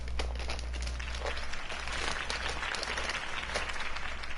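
Sustained crowd applause after a campaign speech by Harvey Dent in the video game Batman: The Telltale Series, a dense, steady wash of clapping held at even loudness throughout.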